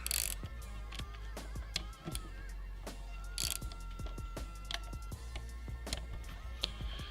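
A wrench ratchets in quick, clicking bursts while delete parts come off a Cummins engine, close and busy, with metallic taps and clinks between the runs of pawl clicks.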